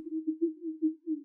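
Resonant frequency isolated from a podcast voice recording sounds as a steady low hum, a single sustained tone that gently pulses in loudness, faint and alone.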